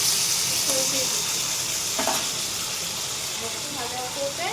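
A fish head fries in hot oil in a pan, with a steady close-up sizzle and crackle and a few light stirring clinks, while a voice speaks briefly over it.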